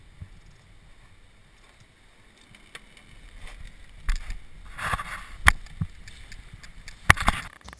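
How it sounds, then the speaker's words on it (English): Coolant drains from the radiator petcock of a Dodge Ram, starting as a faint trickle, then building into intermittent gurgling and splashing with a few sharp clicks and splutters. "you use a 10mm Allen to loosen it counterclockwise and begin to drain the coolant"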